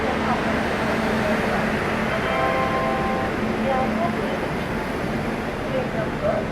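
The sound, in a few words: electric locomotive train arriving at platform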